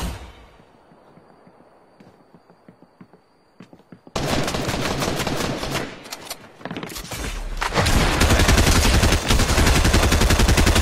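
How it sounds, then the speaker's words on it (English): Gunfire in a video game aimed at the player: quiet at first with a few soft clicks, then bursts of loud rapid shots that grow into near-continuous heavy firing from more than one shooter. "I'm being shot at by two different people."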